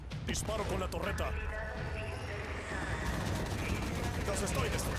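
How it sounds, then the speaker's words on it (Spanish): Rapid turret gunfire from the game Halo 5: Guardians rattles in bursts amid chaotic combat sound, with excited talk layered over it. "¡Disparo con la torreta!"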